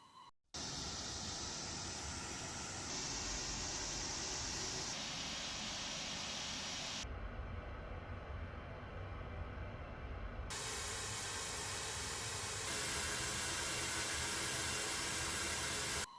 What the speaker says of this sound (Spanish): por ejemplo, un ruido rosa